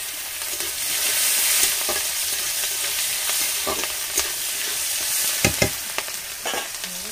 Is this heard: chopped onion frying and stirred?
yes